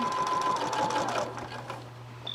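A sewing machine stitches down quilt binding in a steady close-up whir with a rapid needle rhythm, easing and quieter toward the end, with no talk over it.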